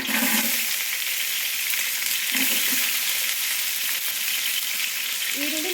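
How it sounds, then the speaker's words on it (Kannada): Onions tossed into hot oil with cardamom for a large batch of ghee rice crackle and sizzle loudly and continuously, close by, with occasional stirring knocks and no talking. "ಈಗ ಈರುಳ್ಳಿ ಹಾಕ್ಕೊಂಡ್ಬಿಡೋಣ"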